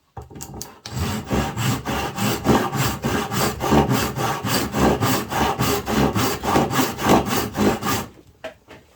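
A hand saw rasps through wood while cutting a half lap joint, a steady series of close, loud back-and-forth strokes for about seven seconds, then stopping.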